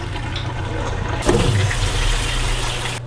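Water rushes steadily as soaked beans are drained and rinsed, a constant loud flow that swells after a second, with a low hum underneath.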